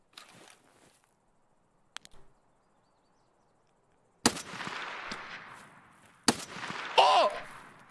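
Gunfire in the video game Escape From Tarkov: two loud, sharp shots a couple of seconds apart, each followed by a long echoing tail over a quiet background, with faint distant pops earlier.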